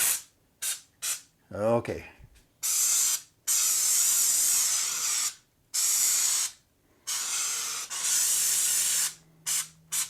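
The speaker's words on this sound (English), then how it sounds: "Let's just spray some on and see what the heck it looks like." Repeated bursts of canned spackling spraying from an aerosol can, loud and close, several long hisses separated by short pauses, with a brief spoken word early on.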